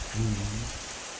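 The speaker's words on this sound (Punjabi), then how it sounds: "ਮੀਂਹ ਆ ਗਿਆ ਜ਼ਿਆਦਾ ਹੁਣ ਹੁਣ ਜ਼ਿਆਦਾ ਹੋ ਗਿਆ" Heavy rain pours down in a constant, loud hiss of drops, with a short voice murmuring briefly over it.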